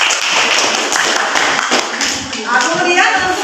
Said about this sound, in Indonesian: Kita beri aplaus dari kelompok 5.